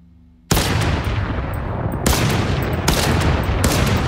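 Rapid gunfire from a B8-8250 in the zombie shooter S.E.C.U, sustained loud bursts that start abruptly after a brief quiet and carry on with a few sharper cracks.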